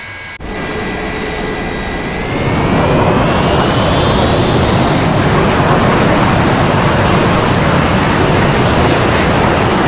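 Milviz F-86 jet engine in Microsoft Flight Simulator: a loud, broad jet roar that starts abruptly, swells as the engine spools up with a rising whine, then holds steady and close.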